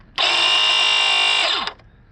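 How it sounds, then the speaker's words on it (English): Jacuzzi JPV300 cordless, battery-powered pool and spa vacuum switching on: a loud, steady high-pitched motor whine lasting about a second and a half, then cutting off with a brief falling tail. "Simply press this button here to turn on and off the cleaner."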